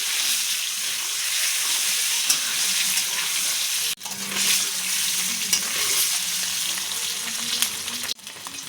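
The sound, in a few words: egg frying in a pan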